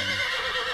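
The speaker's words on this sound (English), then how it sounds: "I reckon y'all know my co-horse, Rusty" A cartoon horse at a rodeo gives one loud, sustained whinny, close and alone, filling the whole short moment.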